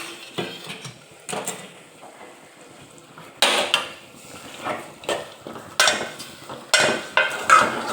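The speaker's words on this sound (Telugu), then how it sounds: "చికెన్ అయితే అడగంటుకోకుండా మధ్య మధ్యలో కలుపుతూ ఉండాలి ఫ్రెండ్స్, లేకపోతే మాడిపోతుంది." Chicken curry is stirred in a metal cooking pot, with a spoon scraping and clanking against the sides in repeated bursts, some strokes louder and sharper than others.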